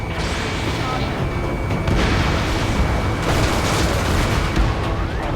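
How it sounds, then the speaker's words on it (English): A dense, continuous roar of booming blasts and rumbling engines fills the scene in the video game Ace Combat 7, loud and unbroken, like heavy gunfire under jets passing overhead through city streets. "Gunfire and the roar of jets echoing through the streets."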